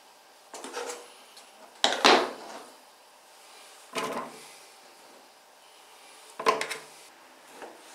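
A knife cuts Braunschweiger sausage into pieces on a board, with four or five separate scraping, thudding strokes spaced out between quiet gaps.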